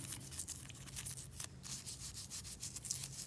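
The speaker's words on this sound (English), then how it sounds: "we're getting all of these bolts spotless" Bolts from a Yamaha YFZ450 engine are scrubbed clean during a crankcase rebuild, giving a steady, close, rapid scratchy rubbing with brief louder strokes throughout.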